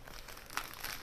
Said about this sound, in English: I'm going to slip it into my plastic bag